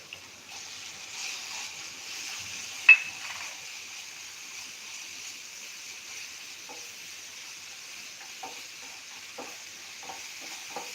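Ginger, chili and garlic paste with onion frying in a pan makes a faint, steady sizzle, with one sharp metallic clink of a spoon and soft stirring scrapes.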